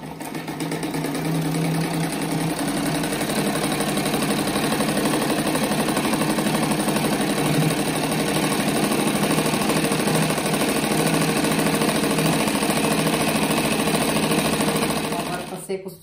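A sewing machine stitches steadily around a strip rug, a loud, continuous rapid mechanical chatter running close by for nearly the whole stretch before halting.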